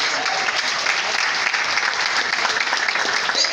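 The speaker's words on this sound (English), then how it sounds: "Please, a round of applause for him." An audience at a live talk event applauds, producing a loud, even wash of clapping that holds steady from start to finish.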